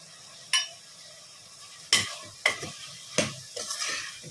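Rice for Maharashtrian wedding-style masale bhat is stirred in a pot with dry goda masala, turmeric and asafoetida, a handful of sharp metal spoon scrapes and clanks against the pot over a faint background sizzle, close and without speech.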